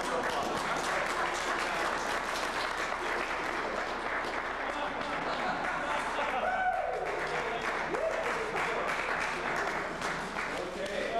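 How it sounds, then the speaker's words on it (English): Audience applause at a magic lecture fills the room, steady and dense throughout, with faint voices and cheers mixed in. "let's give her a round of applause."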